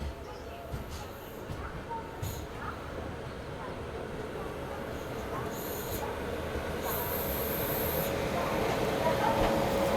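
An Amrit Bharat Express train on the outer line near Kazipet Junction rumbles steadily, the low rolling noise growing slightly louder through the stretch with occasional squeal and brake hiss overhead.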